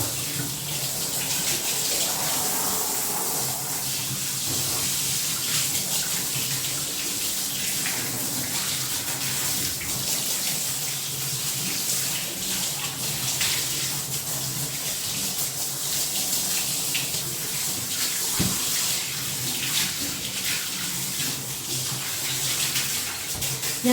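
Steady tap water gushes into a bathtub while a dog is rinsed at home. The flow is continuous and close, a broad hiss with faint splashing and no talk.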